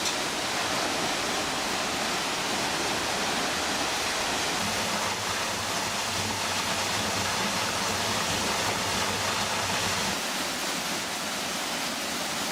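A steady, loud rush of a waterfall fills the scene continuously, close and unbroken, with a low rumble underneath, in a desert national park.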